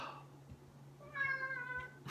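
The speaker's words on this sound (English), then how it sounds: "that's Guido, and he's a gangster cat" A cat meows once, a clear drawn-out cry in the middle, fairly close, over a quiet low hum with a faint voice at the start.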